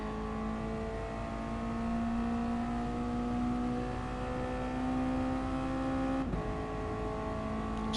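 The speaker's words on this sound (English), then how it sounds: "Just listen to that Mazda engine going up through the gears and then down a gear through Hawthorns." A Mazda MX-5 race car engine on track at Brands Hatch during a championship race, steady loud drone with pitch climbing through gear changes, a sharp shift near the end, under constant racing noise.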